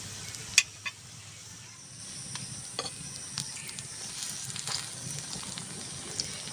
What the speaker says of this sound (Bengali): পাতাগুলো কত সুন্দর ভাজা হয়ে যাচ্ছে আর মাছে এর এই ডিমটা ফুলে কত সুন্দর হয়ে গেছে